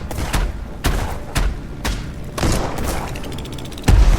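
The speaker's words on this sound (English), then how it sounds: "Here, have a torpedo" Repeated heavy shots and booms from a torpedo-firing airship in the Black Skylands video game, roughly eight sharp blasts at irregular intervals with a bigger thump near the end, no talking.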